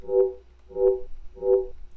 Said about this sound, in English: I just used a low bass note from a UK like house pack. It sounds like this.